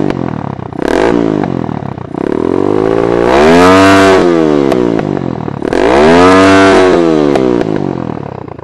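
A Mojo 200 motorcycle fitted with a cat delete pipe revs hard, loud and close, in repeated long throttle sweeps that rise and fall with a raspy exhaust note and mechanical clatter.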